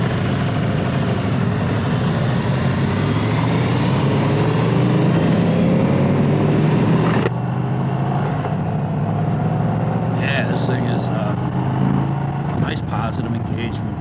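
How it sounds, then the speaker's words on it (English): An Indian Chieftain Dark Horse 116 motorcycle engine runs steadily and loudly throughout, idling and revving, its pitch rising and falling, with a shift in tone partway through. "when you open up the throttle, God, it almost sounds like a valved exhaust"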